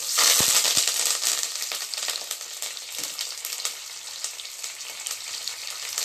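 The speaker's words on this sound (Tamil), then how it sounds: "வெங்காயம் கருவேப்பிலை போட்டு தாளிக்கிறேன்" Onions and curry leaves frying in hot oil after fenugreek seeds, tempering for a fish curry: a loud, steady sizzle with crackles and pops that eases slightly but continues throughout.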